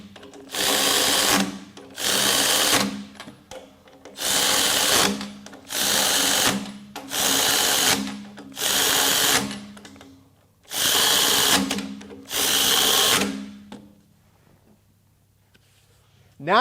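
Milwaukee and Makita high-speed cordless ratchets run on fasteners in eight close, loud whirring bursts of about a second each, separated by short pauses, then quiet at the end.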